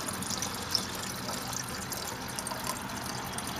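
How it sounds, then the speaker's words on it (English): Distilled water pours into a silver refining solution as a continuous, moderately quiet liquid rush and trickle that holds steady throughout. "this is our distilled water, so we are going to go ahead and add it"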